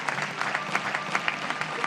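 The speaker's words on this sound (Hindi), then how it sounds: "बहुत सारी तालियां आसिफ अली" Audience applause for cricketer Asif Ali on a T20 World Cup talk show, a quick run of many hands clapping with distinct sharp claps rising out of the steady patter, fairly close.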